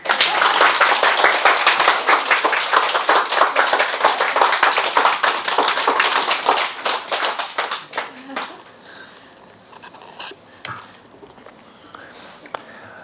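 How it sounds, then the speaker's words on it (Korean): A seated audience at a Korean Buddhist lecture claps loudly and rapidly for about eight seconds. The clapping then thins out to a few scattered claps and quiet room sound. "왜 박수를 안 쳐요?"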